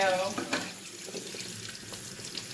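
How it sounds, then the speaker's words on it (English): Tap water runs into a sink while canned hominy is rinsed for vegan pozole, a steady close splashing hiss that continues through the whole short stretch. "I'm going to give this a quick rinse, and I'm going to do this to both of the cans."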